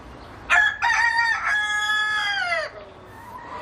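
A rooster crows loudly and close by in one long cock-a-doodle-doo, with a harmonic call that rises and then trails off over about two seconds. The cockerels have attacked a neighbour's dog and start crowing as early as 4 am.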